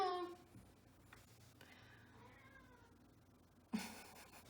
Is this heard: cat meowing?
yes